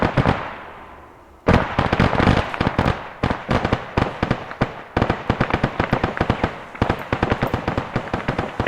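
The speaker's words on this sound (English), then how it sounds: "PKM got us shooting completely the wrong way." PKM machine gun fire in ArmA 3 during a platoon attack training session: long, loud, rapid bursts of evenly spaced shots after a short quiet lead-in, close and sustained.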